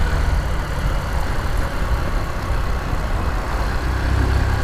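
A Honda Titan 150 motorcycle engine with a fault noise runs steadily, a close, constant mechanical rumble and clatter with no break and no voices.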